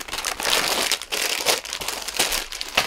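Plastic bags from a Mega Construx Castle Grayskull building kit crinkle and rustle continuously up close, with bursts of crackling handling noise and no talking.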